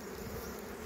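Honey bees buzzing at a hive of mostly nurse bees, a steady low drone close by with no other sound.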